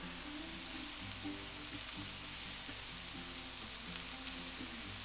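Butter and olive oil sizzling in a pan with long wedges of food, a steady, soft hiss and crackle that stays even throughout, no voices over it.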